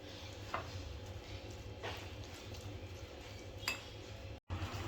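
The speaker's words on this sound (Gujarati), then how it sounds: "આપણે બધું મિક્સ કરી અને એનું આપણે ખીરું રેડી કરશું" A spoon mixes vegetable chilla batter in a bowl, giving a few sparse, faint clinks and scrapes against the dish over a quiet background hum, with one sharper knock near the end.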